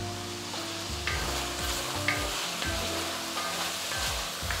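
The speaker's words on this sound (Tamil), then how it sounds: "சிக்கன் நல்லா ஃப்ரை ஆகிட்டுருக்கு" Chicken frying in a pan for a green Thai curry, a steady close sizzle punctuated by repeated scraping stirs, no talking.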